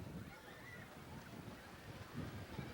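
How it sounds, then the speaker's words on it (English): Steady wind roars across an open space, a broad rushing noise that never lets up, with muffled voices faintly underneath. "you can hear how windy it is"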